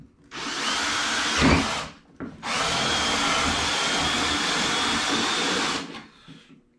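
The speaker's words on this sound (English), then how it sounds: "and I'm just going to drill." A power drill bores a hole through a box cover while a portable fish finder is being built. Two close, loud whirring bursts run about two and five seconds, separated by a short pause.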